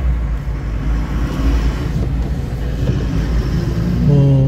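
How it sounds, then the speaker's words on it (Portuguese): A crane truck loads old machines into its bed at a flood-damaged Porto Alegre business, heard as a rough continuous engine and hydraulic drone with clattering bursts and a rising whine at the end. "agarrando as máquinas antigas ali, jogando dentro do caminhão"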